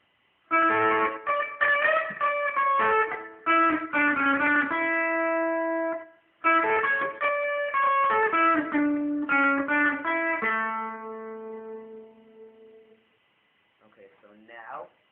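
Electric guitar playing the opening melody of a song, quick picked note runs in two phrases with bent notes, close and clear, ending on a sustained ringing note, with no talking.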